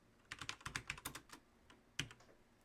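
A computer keyboard being typed on in quick, uneven clicks, a short burst of keystrokes followed by a pause and one firmer final press, close and fairly quiet.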